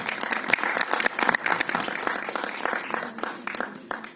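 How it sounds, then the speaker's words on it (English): A crowd at a film press meet bursts into dense, sustained applause, many hands clapping steadily and fairly loud for several seconds with no voices over it. "big round of applause please"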